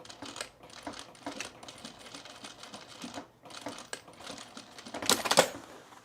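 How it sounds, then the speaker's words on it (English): A sewing machine stitches across a triangle on men's cargo shorts fabric in short, quiet, rapid bursts with brief pauses between them. A sharper clatter comes near the end, and nobody speaks. "And then stitching right across this triangle where you've already sewn."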